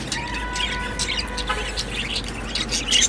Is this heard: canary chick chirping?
yes